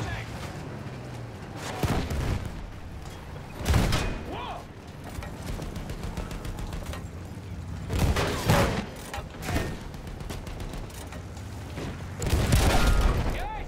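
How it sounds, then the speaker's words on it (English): Gunfire and explosions in the video game Battlefield 1, with repeated heavy booming bursts over a constant rumbling battle background, mixed under a person talking. "Keep shooting."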